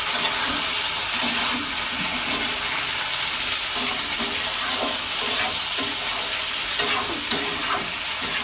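Potatoes and eggplant fry in hot oil seasoned with bay leaves and dried red chilies, making a steady, close sizzle broken by occasional clinks and scrapes of stirring.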